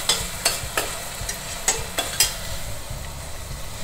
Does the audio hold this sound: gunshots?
no